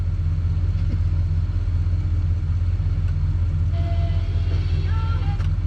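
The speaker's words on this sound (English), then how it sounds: "And she's idling" A 1970 Dodge D-100 pickup, abandoned for nearly two decades, idles steadily at close range with a deep, even low rumble, and faint brief tones and sounds surface in the background.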